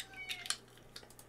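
Several cats meow in short, bright bursts, a few close calls spaced out over a quiet room background while waiting for treats.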